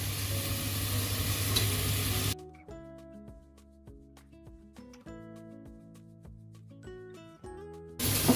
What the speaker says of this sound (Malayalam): നമുക്ക് ചിക്കൻ കുക്കറിലോട്ട് ഇട്ട് കൊടുക്കാം.